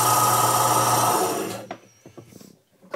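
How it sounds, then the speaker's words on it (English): An oil-cooled blade sharpening machine runs with a loud, steady droning hum that cuts off after about a second and a half, leaving a few scattered knocks and clicks. "There's oil in this machine to keep the blades cool and to help with the sharpening"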